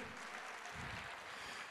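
Church congregation applauding, a dense, even wash of clapping heard at a distance and fairly faint, sustained throughout without a break.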